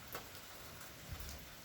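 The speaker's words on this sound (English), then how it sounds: "So it's just a gentle rain right now" Gentle rain falls ahead of Hurricane Ian, a soft, steady patter of drops on surfaces with a few closer ticks, faint and continuous with no talking.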